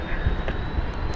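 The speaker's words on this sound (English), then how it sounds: "of a small Embraer engine" Small Embraer jet engine starting up at London City Airport: a steady broadband roar with a faint high whine, fairly loud and continuous, heard alone without talk.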